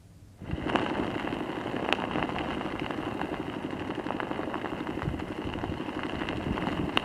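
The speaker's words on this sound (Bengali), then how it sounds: "পায়েল, তোমাকে জানিয়ে রাখি, তুমুল বৃষ্টিতে এই মুহূর্তে কার্যত বলা যেতে পারে বকখালি কার্যত উথাল পাথাল বলা যেতে পারে।" Heavy cyclone rain at Bakkhali on the Bengal coast hisses steadily alongside a low idling engine rumble, with occasional sharp drips and clatters close by.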